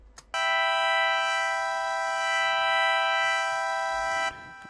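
A sustained synth oscillator tone with a modulated wavetable position, layered for epic strings-style music, holds steady and loud for about four seconds, its bright stacked harmonics shimmering slightly with slow movement before cutting off cleanly.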